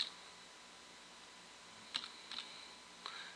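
A few faint, scattered keystrokes on a computer keyboard while entering Cisco ASA 7.2 firewall configuration commands; soft clicks over a steady background hiss, with no talking.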